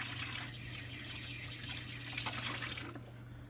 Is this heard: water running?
yes